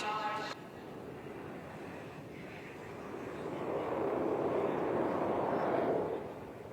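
An Indian Air Force military aircraft makes a slow-speed pass at an air show in Chennai: a broad, steady engine roar that swells louder as it nears, then eases off at the end.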